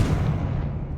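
A Confringo blasting spell bursts in Hogwarts Legacy, giving a single short, loud, low explosive thump that fades quickly.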